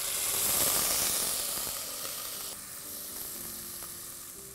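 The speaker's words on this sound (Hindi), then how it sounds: "चलिए, अब हम इसमें ये जो भिगोए हुए चावल हैं इन्हें डालते हैं।" Soaked rice tipped into hot ghee for an orange pulao, a bright hissing sizzle that flares up at first and then settles into a softer, steady frying crackle, close and free of speech.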